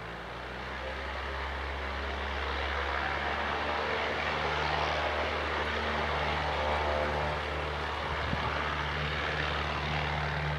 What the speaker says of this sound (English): There's a plane up there about to take off from the aerodrome.